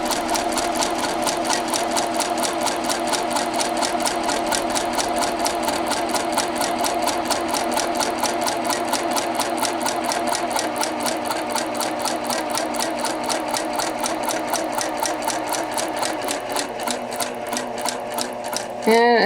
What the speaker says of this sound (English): I'm going to continue on a number 2 stitch all the way down.